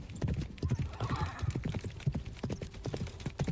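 Rapid horse hoofbeats galloping along a mountain path in the Love and Deepspace video game, a steady driving clip-clop rhythm that stays close and even throughout, with no voices.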